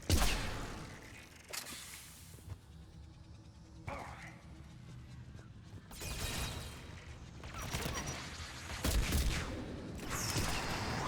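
Gunfire from the video game Mass Effect 3, with bursts of shots, whooshing effects and mechanical clatter in a busy combat mix that swells and fades over several seconds.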